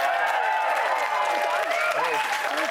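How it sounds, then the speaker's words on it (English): Applause from a studio audience on a reality TV show, dense and steady with cheering mixed in, lasting the whole stretch under voices. "Give him a round of applause."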